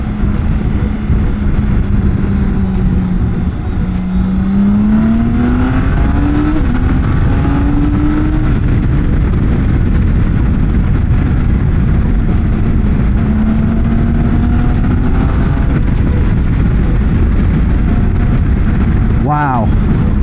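A 2024 BMW K1600B bagger motorcycle accelerates hard, its engine note climbing in rising sweeps under steady, loud wind rush, then settling back before building again.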